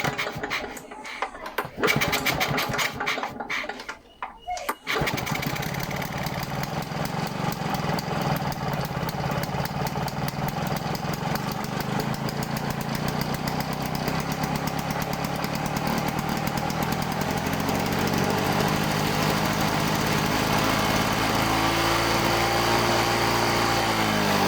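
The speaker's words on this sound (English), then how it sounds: "let's try to start the engine" Victa V35 Commando two-stroke lawnmower engine pulled over a few times with sputtering bursts, then firing and running at a steady high-pitched buzz close by for the rest of the stretch, alone without talk.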